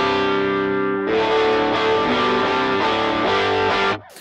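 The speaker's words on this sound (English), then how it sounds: "this is like a second stage overdrive" A thick overdriven electric guitar through a Jet Pedals Mr. Jax overdrive/distortion pedal rings out a sustained chord, then strums a few more driven chords before cutting off.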